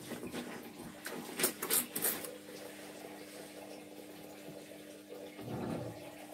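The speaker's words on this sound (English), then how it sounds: "Because the machine is still catching water to soak" A washing machine loaded with white clothes and a shower curtain fills with water to soak, making a faint steady rush with a few louder splashing bursts and a humming tone.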